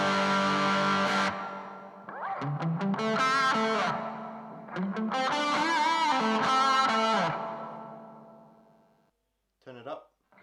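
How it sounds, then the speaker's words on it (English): Electric guitar played through a pedal board with distortion and reverb switched on; loud sustained, gritty chords and sliding notes ring out and decay into a reverb tail, followed by a brief burst of speech. "I'm going to keep the distortion on and just switch on the reverb"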